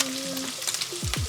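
Poblano sauce bubbles and sizzles in a pan for chilaquiles, a close crackling fry with a few short clinks and scrapes over it.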